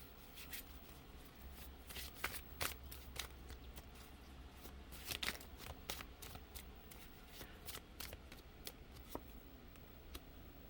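Tarot cards being shuffled and drawn, heard as faint, quick riffles and soft flicks of card against card, scattered irregularly over a low background hum.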